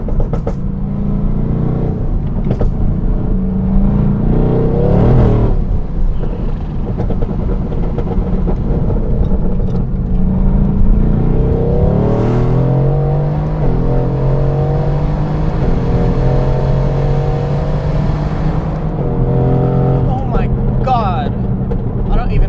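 A tuned Mercedes-AMG GT R with straight-piped downpipes and a Stage 1 tune accelerates, its exhaust rising and falling through several loud revving pulls with shifting pitch, heard from inside the car.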